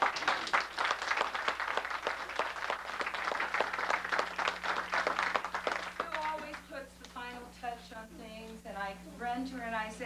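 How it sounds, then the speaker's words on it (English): A crowd at a 1994 school holiday program event claps with dense applause for about six seconds, and then a voice starts talking as the clapping fades. "I want to give her a round of applause because she never gets recognition"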